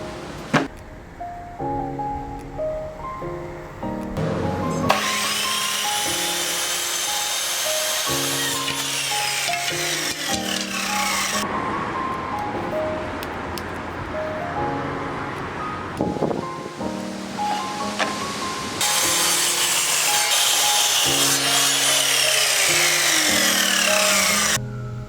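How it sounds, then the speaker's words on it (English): Wood pieces being cut and sanded for a succulent frame, with bursts of rasping saw and sanding strokes alternating with tonal whining passages and brief pauses, close and fairly loud, with no speech. "I'm gonna measure all the wood and then cut and sand it"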